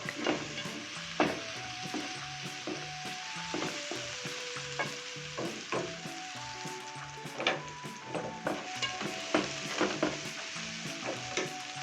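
Spices fry with sausage and sauce in a pan, a continuous close sizzle broken by frequent rhythmic scrapes and taps of a spoon against the pan, with no voices.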